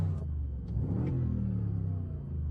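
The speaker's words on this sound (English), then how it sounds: "interfere with the rumble of the engine" BMW 6 Series engine giving a low, steady rumble with slight pulsing, close and moderately loud, alone without talk.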